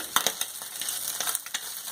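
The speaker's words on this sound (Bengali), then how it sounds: "তেল গরম হয়ে গেছে, মাছগুলো গরম তেলে ছেড়ে দিচ্ছি।" Small mourola fish crackling and frying in hot oil, with bursts of sharp spitting and sizzling over a steady hiss close by.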